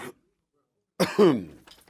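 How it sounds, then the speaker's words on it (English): A short burst of throat clearing follows a moment of silence, a rough, gravelly rasp lasting under a second. "It's bad to clear your throat."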